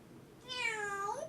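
A parrot imitates a cat's meow in an office: one drawn-out, rising-then-falling meow, fairly quiet and close, over faint background hiss with no talking.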